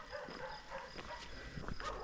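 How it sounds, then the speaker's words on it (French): A dog barks and yips a few times, close but under ambient noise, met unexpectedly while walking a long-distance GR 400 trail. "Oh non, il y a un chien."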